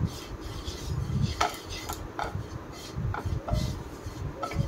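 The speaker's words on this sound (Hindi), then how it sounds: "मैदा को टिके बटर रे भल भाबे भाजीबा।" Flour roasts in butter in a pan for white sauce pasta as a spoon stirs and scrapes against the metal, giving repeated close clinks and scraping strokes over a low frying hiss, with no voices.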